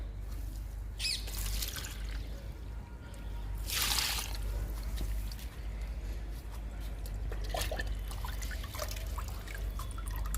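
Liquid NPK fertilizer trickles and splashes from a container onto potted pomegranate plants, a soft, close pour with a louder gush around the middle, over a low steady hum.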